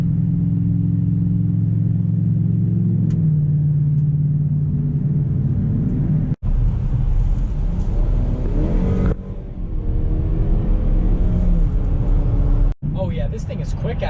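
A 2018 Chevy Traverse engine rumbles and revs as the SUV accelerates onto an interstate, the drone rising in a steady, mid-pitched build under someone talking throughout.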